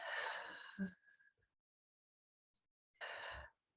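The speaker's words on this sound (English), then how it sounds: "as you can see and hear, I'm breathing deeply" Deep, slow breathing close to the microphone during a calming tapping session: a long airy inhale, a short gap, then another strong breath about three seconds later, with no talk.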